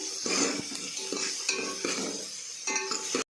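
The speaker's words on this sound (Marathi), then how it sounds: "दोन कांदे आहेत बारीक चिरून घेतलेले तीन कांदा छान गुलाबी रंगावर येईपर्यंत आपण भाजून घेतो आहे" Finely chopped onions fry in a pan under a steady, close sizzle, punctuated by repeated scraping and tapping strokes from a stirring utensil, stopping abruptly.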